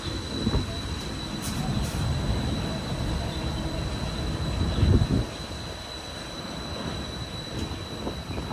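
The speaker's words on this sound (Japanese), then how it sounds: "ちょうど今車庫から当駅始発の列車が入線をしております" A people mover train in Taiwan rumbles and rolls into a station from the depot with steady low clatter, a brief louder surge midway, and a faint high whine above.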